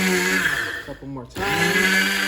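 A blender grinds kettle corn popcorn down to a fine powder, its steady high motor whine filling the clip, briefly dipping and straining near the middle before returning at full, constant intensity.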